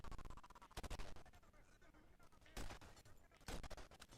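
Gunshots in a PS3 shooter game running on the RPCS3 emulator: three sharp, loud blasts spaced across a few seconds over a busy game soundtrack, one landing a headshot.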